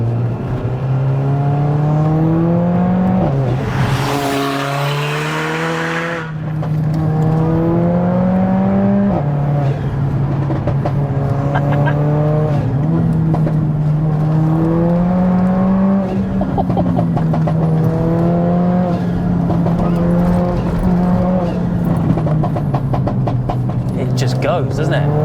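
Widebody Mercedes A45 AMG making 465 bhp, its engine droning steadily at cruising revs with rising and falling pitch through gear changes and a brief whooshing swell early on, loud and close throughout.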